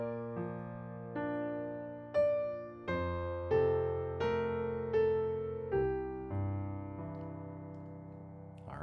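Piano playing a hymn line with a full left-hand accompaniment, a steady series of sustained chords and bass notes at a moderate pace, close and clear with no talking.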